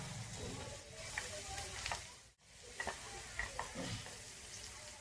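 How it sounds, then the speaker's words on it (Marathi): Spiced paneer gravy with garam masala sizzles and fries in a pan while a spoon stirs it, giving soft bubbling crackle and scraping strokes at close range, with a brief dip to near silence partway through. "आपली ही ग्रेव्ही आता एकदम तेल सुटेपर्यंत परतून घ्यायचं."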